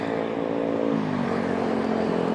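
A Honda New CB150R motorcycle fitted with a Tritec Racing Spartan GP exhaust runs close by in standard mode, a steady droning engine note with a slight rise in pitch.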